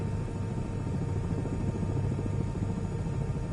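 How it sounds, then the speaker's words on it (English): A helicopter in Microsoft Flight Simulator makes a steady, close, low rotor drone with a faint chopping pulse, heard alone without any voices. "Landing a helicopter is so much freaking better."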